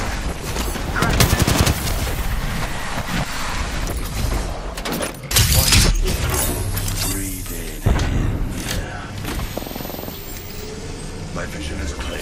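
Gunfire in Apex Legends, played as Caustic: dense, loud bursts of rapid automatic shots across the clip, with a heavy thump near the middle and other game sounds and voices mixed in.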